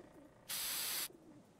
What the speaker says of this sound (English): Right, I'm going to spray this on there.